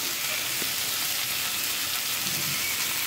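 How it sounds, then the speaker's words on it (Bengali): Pangas fish fries in a pan with a steady, close, hissing sizzle that holds evenly throughout. "মাছ ভাজি চলতেছে।"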